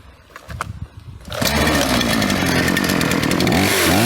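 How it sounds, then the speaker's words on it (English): A chainsaw being repaired and tested, with choke pulled: a few clunks and a pull, then the engine catches and roars loudly, running steadily and revving close by until the end. "Let's switch it on, pull the choke out."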